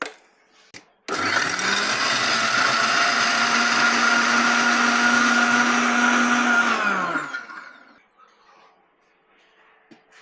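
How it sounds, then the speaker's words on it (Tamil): A mixer grinder whirs loudly and steadily for about six seconds while grinding keerai chutney, then winds down and stops, leaving near silence. "ஆல்ரெடி நம்ம மிக்ஸிலே போட்டு அரைச்சு"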